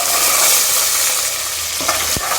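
Cut vegetables and curry leaves fry in hot oil for a hotel-style pulao, giving a loud, steady sizzle with a few stirring scrapes near the end and no talking.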